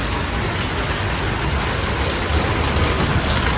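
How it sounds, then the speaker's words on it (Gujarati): Heavy rain pours down steadily, a loud, dense, continuous roar of drops with no letup and no voices. "ફૂલ ચાલુ થઈ ગયો વરસાદ."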